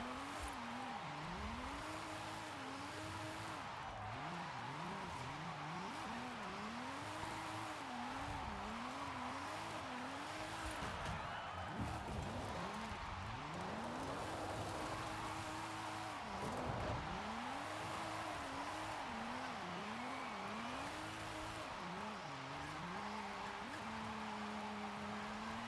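A drift car in Forza Horizon 5 revs and wails through repeated rising and falling engine swoops, with tire squeal and skidding. It stays steady and continuous throughout, with no talk.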